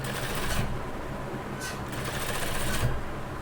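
A sewing machine runs steadily, its needle chattering in a fast, even rhythm while stitching a strip of fabric for a baby frock, close and continuous with brief changes in pace.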